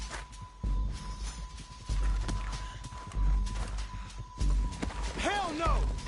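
Horse galloping in Red Dead Redemption 2 during a frantic escape, with steady low hoof thuds running under loud overlapping talk and a brief whinny-like call near the end.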